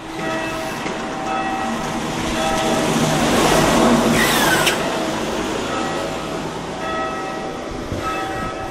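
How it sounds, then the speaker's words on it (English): Church bells ringing in a South Yorkshire village, a loud sustained wash of pealing tones that swells in the middle and then carries on more evenly, no speech. "So bells have just started ringing."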